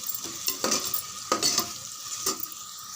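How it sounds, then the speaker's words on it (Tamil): Vegetables for paasiparuppu kichadi sauté in a pan, a soft steady sizzle with several sharp scrapes and clinks of a spoon stirring against the metal, close and fairly quiet. "இதுவும் சேர்த்து இன்னும் ஒரு 3 நிமிஷம் நல்லா வதங்கட்டும்."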